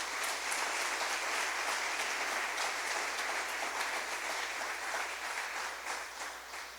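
A church congregation gives loud applause during a Christian sermon, a dense wash of many hands clapping together, steady at first then gradually tapering off, with no speech over it.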